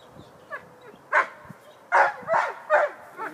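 A dog lets out a few short, sharp barks and yips in quick succession, close by, with quiet gaps and no talking.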